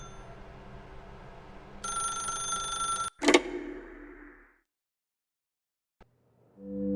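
A telephone rings in The Stanley Parable with a sustained tonal bell ring lasting about a second, followed by a sharp clattering burst as it cuts off. A quiet room hum lies underneath, and a brief click comes later.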